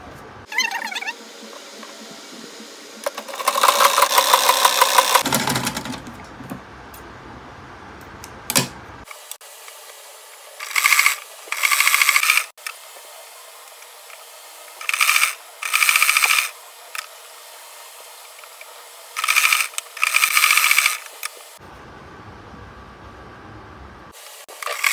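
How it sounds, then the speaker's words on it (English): A steam iron presses freshly sewn fabric, giving repeated loud hissing bursts of steam, one long and several shorter puffs in a rough rhythm, with quiet handling sounds between them. "So now I'm going to iron it. I'm going to iron them after sewing."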